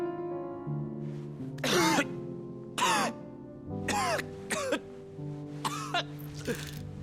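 Clive, the hero of the video game Final Fantasy 16, coughs in about six harsh, separate bursts over a quiet sustained musical bed, with the coughs spaced unevenly and standing out loudly.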